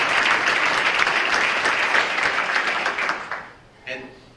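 An athletic hall of fame audience claps loudly, a dense round of applause that tapers off after about three seconds before a voice briefly speaks.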